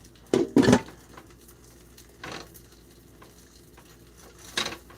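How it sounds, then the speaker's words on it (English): Banquet sausages fry in a pan and get flipped, giving sharp clattering knocks of a utensil against the pan over a faint, continuous sizzle, with a few quieter scrapes between. "I'm like flipping them every so often"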